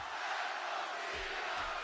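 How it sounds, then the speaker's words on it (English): Dense, roaring crowd noise fills a wrestling arena at a WWE Saturday Night's Main Event show, a steady wash of cheering and shouting that holds at high level throughout with no pause. "Oh, damn, this crowd crazy."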